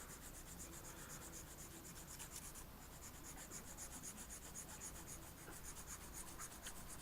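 A sanding stick rubs lightly along a moulded plastic canopy to take off its seam, giving a steady, soft, close-up scraping that carries on without pause.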